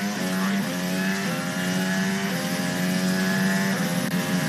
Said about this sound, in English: The sound you're hearing is Lewis Hamilton makes his way around the final corner